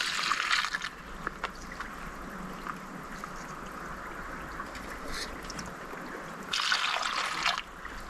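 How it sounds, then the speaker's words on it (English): Dirty water trickles and drips steadily through a gravity filter into a container, with brief louder splashy bursts at the start and near the end. "That is some dirty water coming down."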